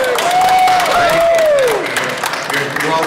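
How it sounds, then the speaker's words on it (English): A crowd at the 2015 AutoRama show breaks into a round of applause and cheering, loud and close, while a sustained tone sweeps over it before the clapping thins out. "Let's have a round of applause here for Mr."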